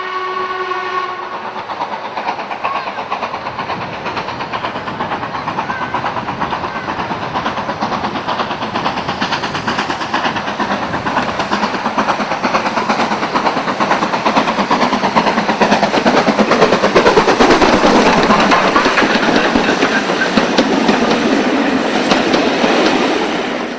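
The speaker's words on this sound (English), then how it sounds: "75027 emerges from Sharpthorne Tunnel on the Bluebell in 2006 and demonstrates its distinctive hooter." BR Standard steam locomotive 75027 comes out of Sharpthorne Tunnel on the Bluebell Railway, a steady chuffing roar building and growing louder as it nears, with a sustained hooter blast at the start.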